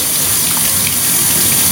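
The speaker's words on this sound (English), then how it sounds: "Put the sink on, run your hand through the bristles" A sink tap runs at full flow while a paint brush is rinsed under it in an art room, giving a loud, steady, close gushing of water with no pauses.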